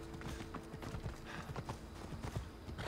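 Hooves clip-clop quickly and faintly as a horse runs alongside its rider in a video game, a steady galloping patter at low volume with no voices over it.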